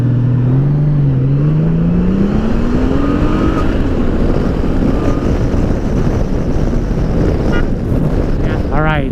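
A 2018 Honda Goldwing motorcycle accelerates hard in sport mode, its engine note rising steadily under heavy, constant wind roar at close range, with a quick sequence of rising tones near the end.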